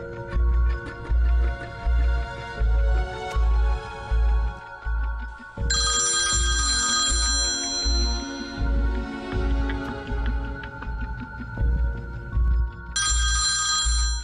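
A telephone ringtone rings repeatedly without being answered, a loud pulsing electronic ring pattern with a brighter melodic phrase breaking in twice, no voices over it.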